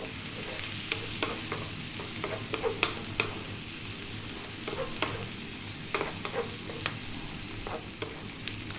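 Pork stir-fries with black pepper in a pan over high heat, giving a steady sizzle broken by frequent sharp scraping clacks of stirring at an irregular rhythm, close and moderately loud, with no voices.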